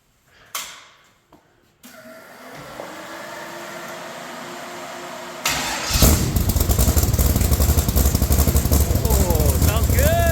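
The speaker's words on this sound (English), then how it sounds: "We're gonna fire it up, see what it sounds like." A Rock Bouncer off-road buggy fitted with a new exhaust cranks over after a few clicks and a rising whir, then fires and settles into a loud, close, throbbing idle.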